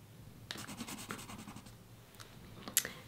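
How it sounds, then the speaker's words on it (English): Pencil dragging through wet acrylic ink on paper, mixing it, a soft close-up scratching and scraping with a few brief louder strokes, no talking. "I'm going to drag some of this acrylic ink out by pulling on it and mixing it together with the pencil."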